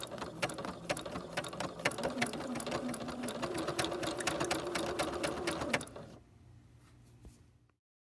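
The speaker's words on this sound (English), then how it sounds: "I'm going to keep it lined up on the edge of the fabric as I stitch down" A sewing machine stitches down a quilt applique with a fast, steady run of needle clatter for about six seconds. It then stops, leaving only a faint hum.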